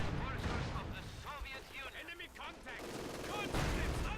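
Rapid volleys of gunfire from a Company of Heroes 2 battle with grenadiers, steady crackling and thumping through the whole stretch, with voices speaking over it.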